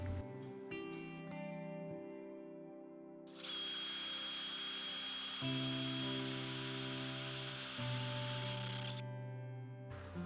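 A power drill whines steadily at close range, its pitch shifting as it bores into wood, running almost continuously with brief changes in load.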